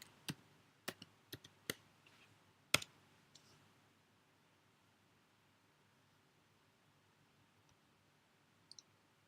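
Typing on a computer keyboard, a short burst of several sharp separate key clicks close by, then near silence with a couple of faint taps at the end.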